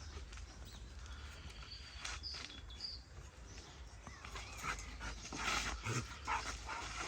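Pit bull dogs playing outdoors before rain, with barks and panting scattered across a steady outdoor background, moderately distant and fairly quiet.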